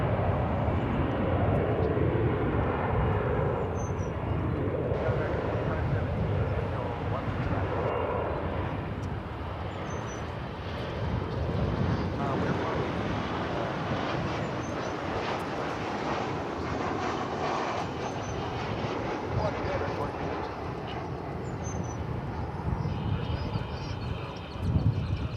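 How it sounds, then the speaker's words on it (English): China Airlines Cargo jet arriving from Anchorage at an airport, a continuous broad engine roar with wind buffeting on the microphone, steady and moderately distant throughout, with no talking. "that will be followed immediately by China Airlines Cargo Flight 528 from Anchorage"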